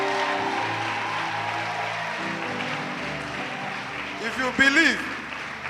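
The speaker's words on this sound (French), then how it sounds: "give the Lord a big clap offering" Church congregation clapping in praise during a sermon, a steady wash of applause under a preacher's voice that swells toward the end.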